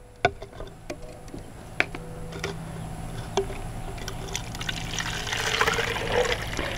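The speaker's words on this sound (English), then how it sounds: "I'm gonna take and pour some warm water" Warm tap water poured into a container holding glue, a steady close trickle building toward the end, with small ticks and clinks earlier and no talk.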